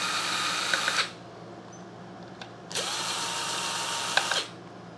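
A power driver backs flathead screws out of the diffuser plate of a Pentair/Sta-Rite Dura-Glas pool pump in two close, loud whirring runs, with a brief quiet pause between them.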